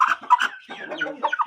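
A Kül Shamo rooster, a strong cockerel hatched in March, gives short, close clucking calls alone.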